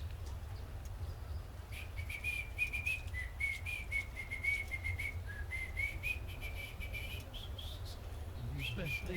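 A lone, high, fairly faint whistled melody runs for several seconds in a quiet room, with a low hum underneath.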